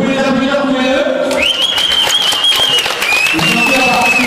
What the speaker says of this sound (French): Vous pouvez les applaudir tous les deux.